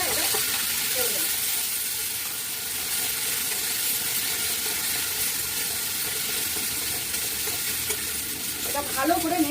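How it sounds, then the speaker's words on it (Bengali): Bottle gourd peel paste, ground with salt and turmeric, being stirred and fried in a wok after onions, with a steady sizzle and occasional scraping of the spatula throughout. "এটা ভালো করে নেড়ে চেড়ে শুকিয়ে নেবো কড়াইয়ের গা ছেড়ে দেওয়া পর্যন্ত"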